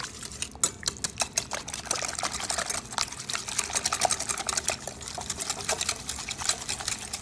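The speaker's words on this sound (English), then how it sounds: "And then let's whisk it" A sour cream mixture is whisked in a bowl, giving quiet, quick, irregular ticking and wet scraping strokes that continue throughout.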